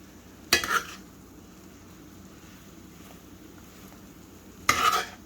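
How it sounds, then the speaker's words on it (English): Spoon scraping and stirring apple pie filling as it caramelizes in a pan, two short clattering strokes a few seconds apart over a faint background hiss. "Keep stirring it until it caramelizes."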